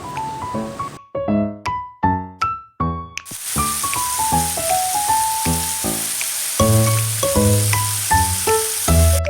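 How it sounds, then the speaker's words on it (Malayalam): Sliced onions sauté in hot coconut oil in a pan for a Kerala chicken bread pola masala, a steady sizzle that starts partway through beneath a bright melodic tune. "പാൻ ചൂടാക്കി വെളിച്ചെണ്ണ വെച്ചിലേക്ക് നമുക്ക് സവോള വാട്ടാനായിട്ടിടാം"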